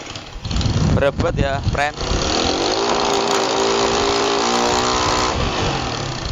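A motorcycle engine with a swapped CDI unit revs loudly and close, climbing through several throttle blips, then holds a sustained strained drone, with someone speaking briefly over it.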